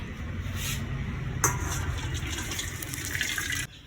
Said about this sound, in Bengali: তো বাটিতে আমি জল ঝরাতে রেখে দিচ্ছি।